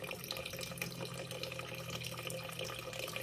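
Tap water runs into a kitchen sink, a steady faint splashing flow with light dripping textures and a low hum underneath, no one speaking.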